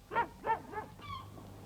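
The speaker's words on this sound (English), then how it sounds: "There was a dog barking at the sea" A cartoon dog barks at the sea, three short bright yaps in quick succession, then a higher tonal whine, heard close and alone over faint seaside ambience.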